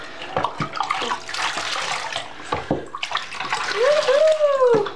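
Running water splashes in a bath while a teacup chihuahua is rinsed, a steady close pour with intermittent splashes and a brief high whimper near the end.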